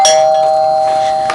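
A loud electronic doorbell chimes once with a sustained bright ringing tone, sounded as a stage effect during a live musical theatre performance, clear and alone with no talking.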